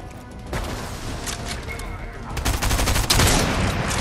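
Shotgun gunfire in a Fortnite match, a burst of loud, close shots and blasts layered over game noise, with a heavier cluster of impacts toward the end.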